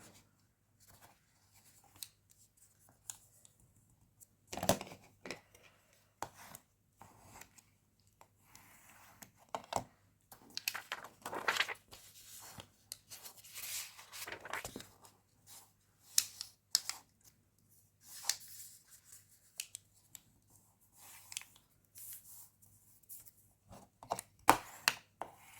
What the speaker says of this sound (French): On va marquer nos plis.